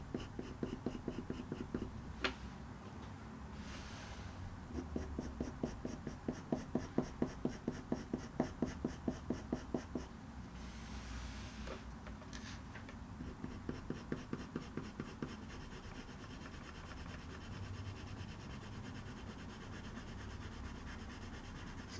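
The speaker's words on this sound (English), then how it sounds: "Remember to sort of increase the pressure on the pencil as well." Pencil shading on paper while drawing fur around a cat's eye, heard as quiet, steady scratchy strokes in quick rhythmic bursts with pauses between them, close up and alone.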